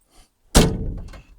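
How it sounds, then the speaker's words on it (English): A car door on a worn 1963 Ford Falcon is pushed shut with a single solid thunk, close and loud, followed by a brief rattle as it settles. "This is the only door that actually closes all the way."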